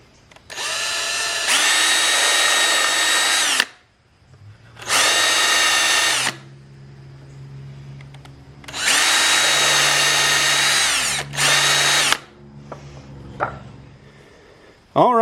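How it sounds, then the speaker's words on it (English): A power drill boring pilot holes into a wooden frame for a corn hole board: four loud, whining bursts of a few seconds each, separated by pauses with a low hum and small clicks. "we're going to add some pilot holes."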